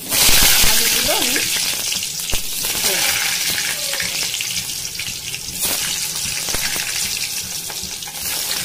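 Salted, turmeric-coated potato pieces fry in hot oil in a wok, giving a loud, steady crackling sizzle with occasional sharp pops and stirring clatter, and a brief voice comes through early on.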